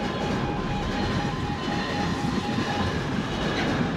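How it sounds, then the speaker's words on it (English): A freight train hauled by a Class 66 diesel locomotive rolls steadily past at close range, a loud continuous rumble with a faint wheel hum and no pauses. "Warning! Another freight is approaching!"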